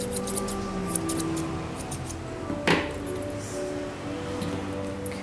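Grooming scissors snip through a poodle's topknot hair, a few faint, close metallic clicks and snips, with one sharper snip near the middle and a low hum underneath.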